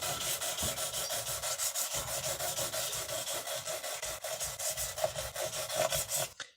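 A sanding block rubs back and forth over the beveled fret ends of a guitar neck, a steady dense scraping with regular strokes, close and continuous, with no voices.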